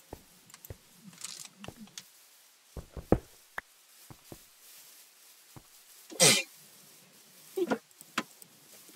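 A single sharp sneeze bursts out near the mic midway through a quiet stretch, among scattered clicks, small knocks and faint background murmur.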